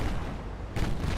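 Naval guns firing in the warship battle game Ultimate Admiral Dreadnoughts, a dense, low booming roar that swells again near the end of the short burst, with no voices.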